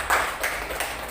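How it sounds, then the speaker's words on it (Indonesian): Brief scattered applause from a primary school class for group 2 during a lesson, a few quick claps close by, lasting about a second. "tepuk tangan untuk kelompok 2"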